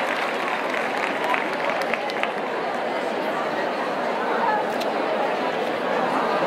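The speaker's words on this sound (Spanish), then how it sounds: "Entre los aplausos." Good Friday crowd applauding as costaleros carry a religious float out in a Holy Week procession, a broad sustained wash of clapping mixed with crowd chatter and voices, steady and fairly loud throughout.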